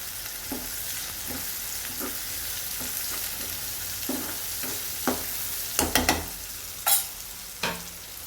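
Tomatoes and onions cook in a pan with salt and turmeric, giving a steady low sizzle under regular scraping stirs, then a few louder clattering knocks toward the end, close with no talk.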